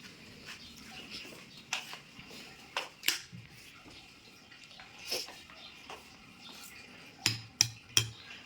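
A spoon clinks against dishes while food is served, with scattered sharp metallic taps and a quick cluster of clatters near the end over a quiet room.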